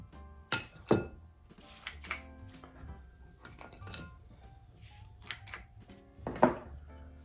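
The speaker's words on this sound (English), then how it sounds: "I'm just gonna scoop my cookies out onto here" Scooping gluten-free sugar cookie dough onto a tray with a cookie scoop, giving scattered clinks and light taps of metal on the tray, several sharp knocks spread irregularly over quieter handling noise.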